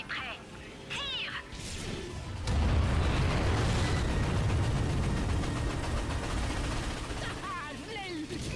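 Defensive tower ion cannon firing at warships in the Ratchet & Clank PS4 game, a heavy booming blast followed by a sustained rumbling roar, with chirpy electronic effects before and after.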